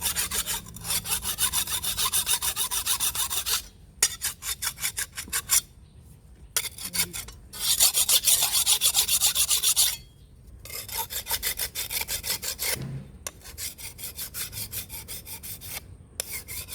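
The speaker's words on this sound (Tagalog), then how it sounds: "Tapos ito hahasain ko. Hahasain ko para maganda." A farm tool blade is sharpened with a file in repeated bursts of harsh, rhythmic rasping strokes, close and loud, pausing briefly between sets.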